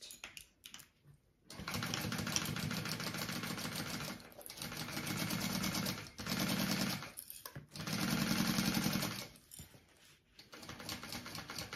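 Sewing machine stitching a backpack piece, close and loud, running in several steady bursts with short stops between them, a fast even mechanical whir and clatter.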